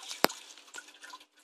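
A single sharp drip of water in a top-drip hydroponic grow system, followed by a softer drop and a steady low trickle, close by.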